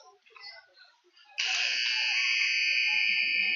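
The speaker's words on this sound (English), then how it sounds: "And that is buzzer number 1 into the first period." A loud, sustained buzzer ending a period at a junior ice hockey game blares suddenly after faint crowd and commentary murmur in the arena, holding steady to the end.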